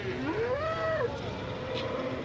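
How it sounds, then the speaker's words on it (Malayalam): A cow lows once at a busy Kerala cattle market, a loud rising-and-falling moo up close against a low murmur of crowd background. "നല്ല ഹെവി പശു ഇതാ ഇവിടെ"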